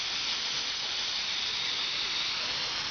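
A steam engine lets off a steady, loud hiss of escaping steam, a continuous broadband rush with no break and no voices.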